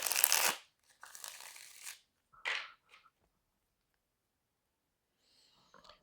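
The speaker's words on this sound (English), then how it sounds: "So Spirit, I'm just going to shuffle them once." A deck of tarot cards is shuffled in a few quick riffling bursts close to the microphone, with pauses of silence between them and a faint rustle at the end.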